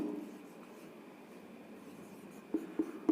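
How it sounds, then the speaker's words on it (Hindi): Pen writing notes during a history lesson, a faint continuous scratch on paper that ends in a few sharper strokes and taps. "मतलब लिख दे रहा हूं"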